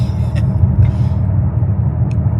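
The engine and exhaust of a 2024 BMW X5 M Competition give a deep, close, steady rumble under acceleration, with a few faint, brief higher-pitched ticks over the low drone.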